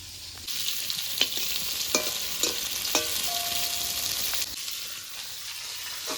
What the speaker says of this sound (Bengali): হলুদ ছাড়াই পটলগুলো ভেজে নেব